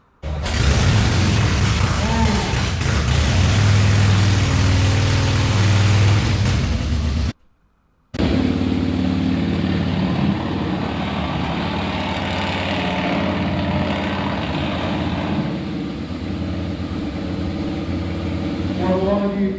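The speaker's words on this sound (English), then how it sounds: "Yeah, so that's some of the sounds and some old speedway bikes." Old speedway motorcycle engines run at a vintage bike show in Bulli, a loud, steady, rough mechanical roar that holds for most of the stretch, broken by a brief cut, then settles to a slightly quieter, continuous running note.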